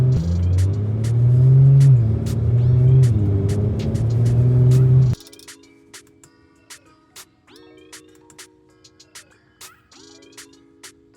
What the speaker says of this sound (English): Love Audi Quattro, man.